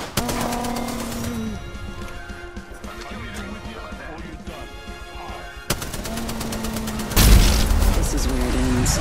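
Gunfire in the battle game Apex Legends, a burst of shots that grows louder and denser toward the end over steady game music and effects, with talk throughout.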